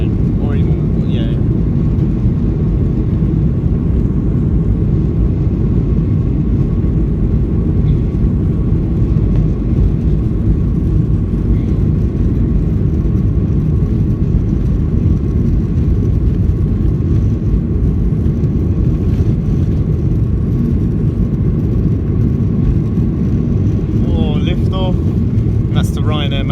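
A Ryanair Boeing 737-8AS with winglets roars at full takeoff power leaving London Stansted Airport, heard from inside the cabin as a loud, constant, broadband engine rush throughout, with a few faint higher sounds near the end.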